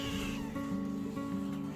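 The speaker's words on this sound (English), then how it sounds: "And then I've got some kittens." Kittens on a ranch meow in repeated high, plaintive cries, close and clear, several calls in quick succession.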